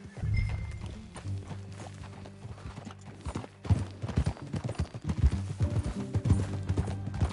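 Hooves clip-clop steadily as a horse walks in the video game Red Dead Redemption 2, with a low rumbling bed beneath and the pace growing busier toward the end.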